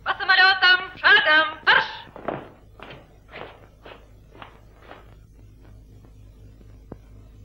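Sailors march off on command toward their planes, their footsteps thudding in a fading, regular rhythm after a loud shouted order, growing fainter into the distance.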